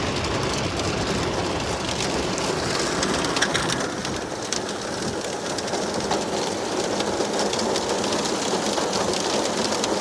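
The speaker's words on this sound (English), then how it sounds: "Got some hail." Hail and heavy rain during an October storm in Western Washington, a dense, steady roar of drops hitting surfaces at close range, loud and unbroken for the whole stretch, with no talk.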